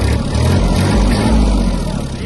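A Kubota GL300 Japanese 30 hp mini tractor with a cab, its diesel engine revving loud and close, a rough rumbling roar that swells and holds steady over about two seconds.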